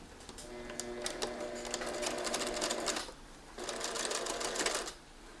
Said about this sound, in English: then I'm going to sew it together. So I'm going to do a stitching line down either side.